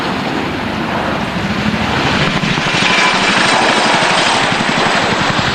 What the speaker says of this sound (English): There you can see that although the Chinook is quite a large piece, it is still nevertheless quite manoeuvrable.